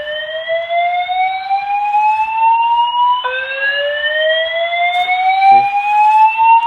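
A fire alarm control panel sounds its evacuation tone: a loud, steady rising electronic sweep that climbs, resets and climbs again, repeating with no talk over it.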